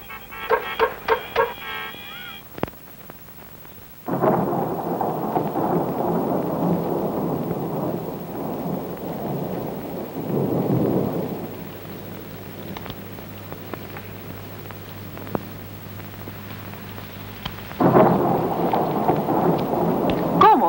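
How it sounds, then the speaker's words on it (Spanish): Steady rain falls throughout a thunderstorm while deep rolls of thunder swell and fade in long waves, with brief clatter and faint voices near the start. "Llueve."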